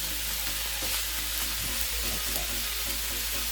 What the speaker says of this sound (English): you want to make sure that you hear the sear